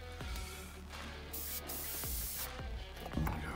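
A clogged airbrush spray gun, used for salt-weathering a model, being cleared in a few short, sharp bursts of hissing air over about three seconds, close and fairly quiet with no talk.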